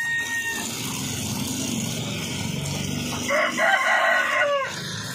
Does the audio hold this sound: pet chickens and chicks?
yes